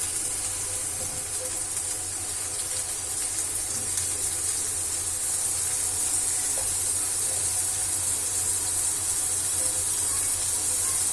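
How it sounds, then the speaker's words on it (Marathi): Barnyard millet (varai) sautéing in melted ghee over low gas, a soft continuous hiss and sizzle, steady and fairly quiet throughout. "ही जी वरई आहे ती सर्व वरई आपल्याला या तुपामध्ये एक हलकीशी परतून घ्यायची आहे"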